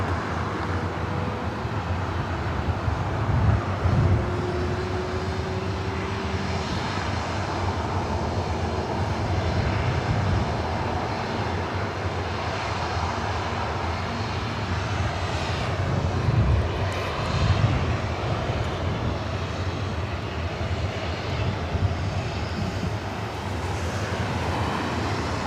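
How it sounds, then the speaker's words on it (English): WestJet Boeing 737-800 jet taking off from the north side of LAX, a steady broad engine roar at some distance that swells and fades slightly over time, with wind noise on the microphone. "Also heading up for a north side takeoff."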